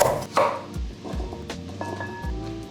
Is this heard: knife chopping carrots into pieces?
yes